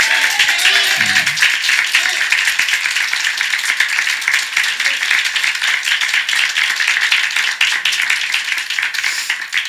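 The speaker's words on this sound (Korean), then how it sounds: "먼저 우리 하나님께 박수로 영광 돌리겠습니다." Church congregation clapping together at a Sunday morning worship service, a dense, sustained wash of applause lasting nearly ten seconds at full strength.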